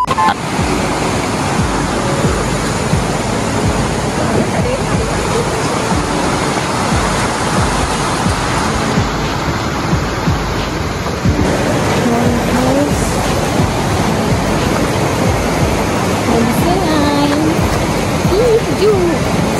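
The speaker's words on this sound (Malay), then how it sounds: "Sedap gila bunyi dia. Bunyi sungai menangkai." A river at a forest campsite rushes loudly and continuously nearby, a thick roar of flowing water filling the whole stretch with faint voices underneath.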